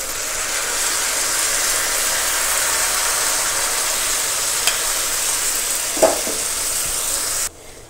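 Jujube pickle with jaggery fries in a pan while being stirred, a continuous close sizzle with a couple of scraping knocks near the end before it cuts off abruptly.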